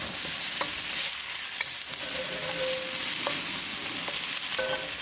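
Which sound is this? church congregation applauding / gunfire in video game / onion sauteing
onion sauteing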